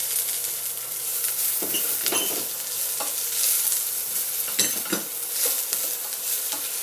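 Garlic and onion sauté in oil in a pan for a chicken dish, a loud continuous sizzle close by, broken by repeated scraping stirs of a utensil against the metal.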